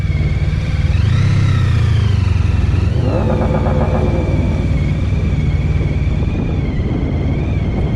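A motorcycle fitted with ABS rides a rider-training course. Loud, continuous engine rumble swells with a brief rev, then settles into a steady drone under constant wind noise.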